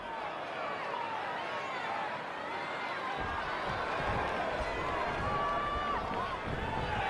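Arena crowd in the WWE 2K20 wrestling video game roars steadily with cheering and chatter throughout, a dense, continuous wash of noise that swells slightly midway.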